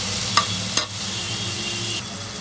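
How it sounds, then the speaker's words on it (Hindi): Chopped tomato stirred into masala frying in a pot, a continuous sizzle with a couple of sharp spoon scrapes near the start, no voices. "मसाले में टमाटर डालने के बाद हमें चला लेना है"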